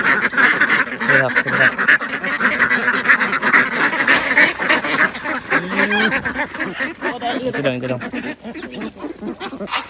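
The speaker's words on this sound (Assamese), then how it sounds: "বেচা হাঁহখিনি আহিছে এতিয়া এইবোৰক দানা দিব লাগে" A flock of farm ducks quacking as they gather to be fed grain, dense overlapping nasal quacks close by and loud throughout, with a person speaking over them.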